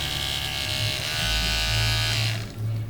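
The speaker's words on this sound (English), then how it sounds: "This is the clipper that I use. It is the Andis Ultra Edge. It's got 2 speeds." An Andis Ultra Edge two-speed dog clipper runs steadily with a loud, close electric motor buzz and no pauses, its pitch shifting slightly as if the speed setting is changed.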